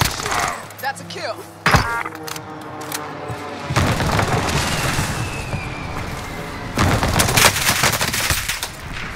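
Video game gunfire aimed at a UAV overhead in Caldera, loud bursts of rapid shots with booms, heaviest near the start and again late, while players talk over the game audio.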